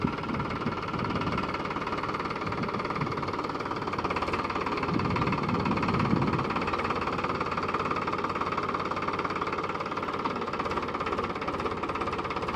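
Steady, unbroken drone of a tractor engine working a peanut field, with a slightly knocking diesel rumble holding at an even level throughout and no voices.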